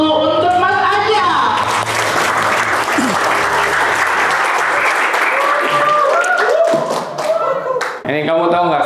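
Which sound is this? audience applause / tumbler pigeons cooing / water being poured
audience applause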